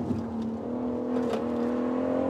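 A BMW M140i accelerates hard on a wet race track, its engine a steady, rising drone heard close from inside the car, with a slight pitch shift as it pushes wide out of a corner and no voices.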